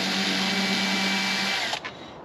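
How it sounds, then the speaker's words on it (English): A power drill at a low clutch setting whirs at a steady pitch for a moment, then winds down and stops with a short click. "I am using a really low clutch rate on my drill."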